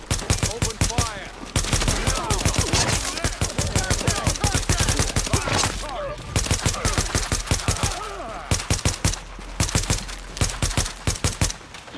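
Rapid, relentless automatic gunfire in the video game Tom Clancy's The Division, loud and close, with dense bursts of shots continuing almost without pause throughout.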